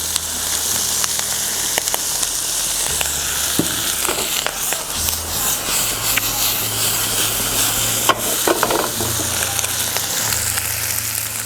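Garlic and bacon frying in a pan for spaghetti carbonara, a steady close sizzle with scattered pops and crackles, plus a few faint knocks.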